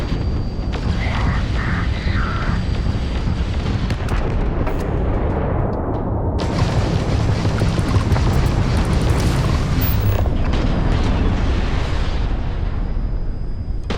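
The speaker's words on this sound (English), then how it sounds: "Man, when the missile hits, it's just insane." Missiles strike in the space game Starfield with a continuous, loud roar of explosions and rumbling blasts that barely let up.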